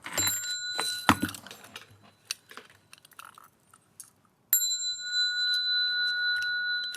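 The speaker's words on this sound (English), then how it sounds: "Bell sound" A bell is struck at a Buddhist lecture, giving bright ringing strikes with long sustained metallic tones that ring out and decay, then one more clear strike resonating to the end.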